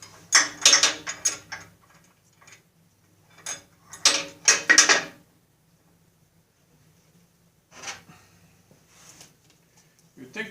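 Ratchet socket wrench clicking while fitting the belt adjuster on a rusty riding mower deck, in quick bursts of ratcheting near 0.5–1.5 s and 4–5 s, then a fainter burst near 8 s, with quiet gaps between.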